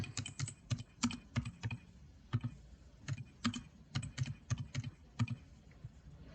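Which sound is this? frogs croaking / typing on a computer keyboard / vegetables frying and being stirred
typing on a computer keyboard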